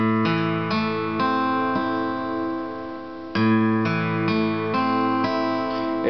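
A minor chord strummed on guitar, sounded repeatedly in a steady rhythm of ringing strums with one stronger restrike midway, close and clear with no talking.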